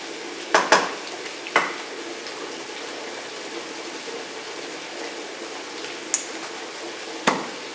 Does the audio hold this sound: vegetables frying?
yes